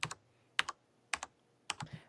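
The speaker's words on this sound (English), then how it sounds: "I downloaded this sound. It's literally called like Keyboard Click 3 or something." Keyboard click sound effect plays four times in an even rhythm, each a sharp double tap close up against near silence.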